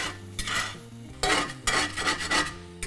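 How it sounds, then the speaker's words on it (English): Egg being stirred in a pan with a spatula, giving close scraping and rasping strokes against the metal in an irregular rhythm, with a faint sizzle underneath. "now it's just a matter of stirring it around with the spatula"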